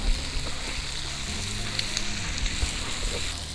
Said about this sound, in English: You fry the onion till the oil comes up